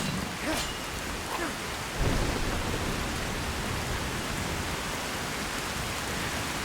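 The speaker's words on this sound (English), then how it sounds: "Oh, great. Rain. Wonderful." Steady rain hisses loudly inside the game Skyrim, with a deep thunder rumble about two seconds in, the downpour continuing alone afterward.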